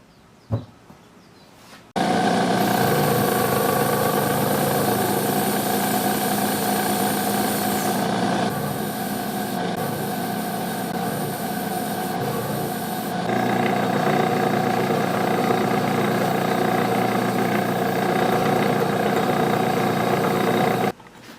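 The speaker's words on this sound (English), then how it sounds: "We're gonna mount this up and machine that register." A metal lathe fitted with a 4-jaw chuck runs steadily while machining a register on a diecast part, a continuous loud motor drone with a brief knock at the start and small shifts in tone partway through.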